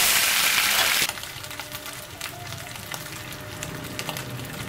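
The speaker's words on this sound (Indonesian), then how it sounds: "Goreng hingga agak kering." Thin beef slices fry in a pan until fairly dry for Pariaman-style boiled noodles, giving a loud steady sizzle that drops to a softer, ongoing crackle after the first second, with no talk.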